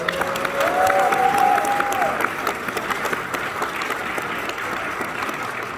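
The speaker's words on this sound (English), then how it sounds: "Everybody give Amelia a round of applause" A fan convention panel audience applauds a guest, a dense, steady round of clapping with a brief cheer early on, continuing evenly throughout.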